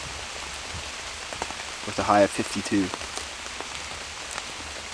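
Rain patters steadily on surfaces during a wet day out elk hunting in Washington, a constant soft hiss of drops while someone talks briefly partway through.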